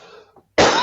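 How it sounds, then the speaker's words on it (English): A single sharp, loud traveller's cough bursts out at the end, close and harsh, following a brief trailing bit of voice and a short pause. "travel cough"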